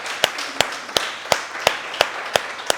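Slow, evenly spaced claps from a church congregation, about eight sharp strikes in a steady rhythm, moderately quiet over a soft room background.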